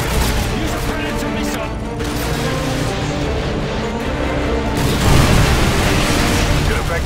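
Predator missile strike in Call of Duty Modern Warfare 2 gives a loud, sustained booming roar with dense rumbling blasts, swelling further near the end.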